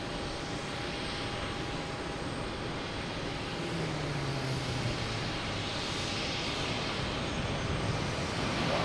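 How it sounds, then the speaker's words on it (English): A Delta Airbus A321neo jet taking off, heard from a distance as a broad, steady roar that slowly swells and faintly rises in pitch, continuous throughout with no voices. "we have a Delta taking off, the A321 Neo heading to San Francisco"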